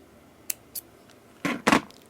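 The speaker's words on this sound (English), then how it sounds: "And now I will cut the thread" Beading thread cut with scissors while making men's beaded jewelry: two light snips, then two louder, closer cuts in quick succession, with no talking.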